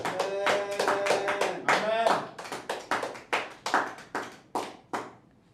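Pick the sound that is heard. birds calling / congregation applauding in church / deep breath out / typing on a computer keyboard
congregation applauding in church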